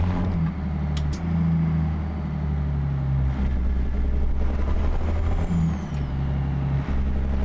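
A heavy truck engine in American Truck Simulator, hauling sugar beets, drones low and steady with throttle surges, punctuated by short hissing air-brake bursts near the start and again later, loud and close with no talk.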